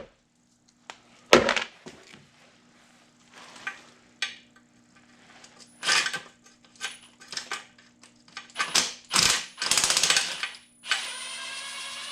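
Ratchet with a 10 mm swivel working Nissan Murano oil pan bolts on a 2010 Murano, intermittent metallic clicks and rattling bursts separated by quiet gaps, close up, ending in a longer run of rapid ratcheting.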